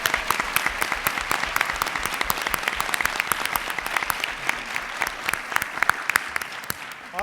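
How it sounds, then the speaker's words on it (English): An audience at the Do Good Challenge Finals 2016 applauds a sponsor with sustained, dense clapping from many hands that stays loud and even throughout, no talk over it. "Please, a big round of applause for Morgan Stanley"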